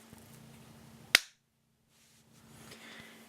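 One sharp, loud hand clap cracks out near the microphone to trigger an Arduino clap sensor, cutting off quickly against a faint electrical hum and light background noise.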